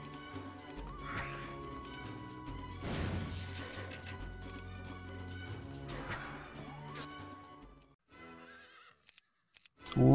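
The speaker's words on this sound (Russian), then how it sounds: "Лошадки, лошадочки. Лошадки, лошадки." Horses in a video game neigh and whinny repeatedly over clattering hooves and crashing impacts, with loud whinnies near the start and middle before the sound fades to near silence.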